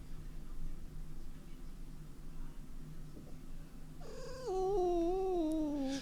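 A three-year-old unspayed female cat in heat purrs with a low continuous rumble, then gives one long, loud, drawn-out yowling meow that bends downward in pitch, close up and alone.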